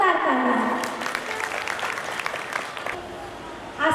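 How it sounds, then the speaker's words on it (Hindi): Audience clapping loudly for a religious teacher at the opening day of a Bhagavat Katha gathering, a dense steady round of applause under some talk and crowd murmur, tapering slightly near the end. "उससे पहले हमारे आचार्य पंडित जी के लिए जोरदार तालियां।"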